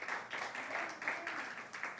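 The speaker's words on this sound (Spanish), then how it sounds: "un aplauso para ustedes" Applause from a church congregation, a few seconds of hand clapping swelling and easing in soft waves, somewhat distant and fairly quiet.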